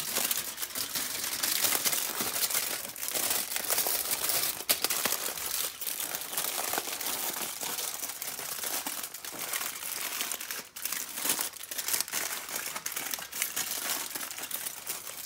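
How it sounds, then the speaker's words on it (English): Aluminium foil crinkles steadily and densely as food is wrapped up in it, close and constant for the whole stretch, with no voices. "So I'm just going to wrap that up now in foil."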